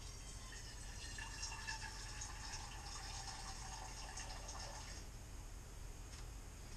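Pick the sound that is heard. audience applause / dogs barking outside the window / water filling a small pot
water filling a small pot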